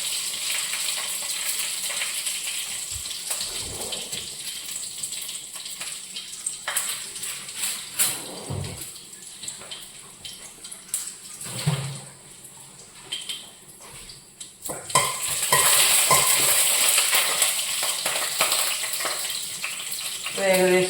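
Bay leaf, cinnamon, cloves, cardamom and pepper fry in hot oil for a soya chunk curry, a steady sizzle with occasional stirring clinks that swells loudest near the end.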